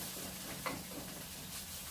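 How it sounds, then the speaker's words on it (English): Sausage sizzles and crackles quietly in a pan, a steady hiss with an occasional soft tap of a utensil. "So while the sausage is here frying"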